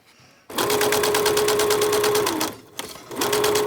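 Brother sewing machine stitching fabric, a loud close rapid mechanical whir in two bursts, the first about two seconds long, separated by a brief pause and soft clunk.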